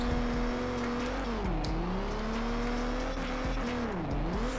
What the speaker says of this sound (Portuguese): Fizemos um driftão aqui de Mustang aqui